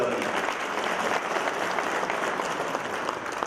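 A conference hall audience at a notaries' congress in Oran, Algeria bursts into sustained, dense applause for the Benin delegation, steady and loud throughout with no speech over it.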